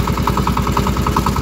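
A cheap tractor's engine runs loud and close with a steady, rapid pulsing chug and rattling vibration as it works through its gears, no voices over it.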